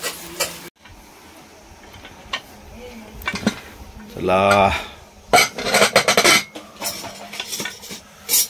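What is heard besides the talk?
pressure cooker being taken off the stove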